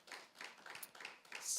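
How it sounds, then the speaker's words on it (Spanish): A church congregation claps for the Lord during a worship service, a quick run of scattered handclaps at moderate volume that builds toward the end, with no voices over it. "Dale un aplauso al Señor."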